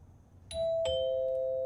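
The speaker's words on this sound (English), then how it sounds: "we hear someone ring the doorbell" A doorbell rings in a horror video game set around a cursed bathhouse: two clear electronic chime tones, the second sustained, heard alone over faint background.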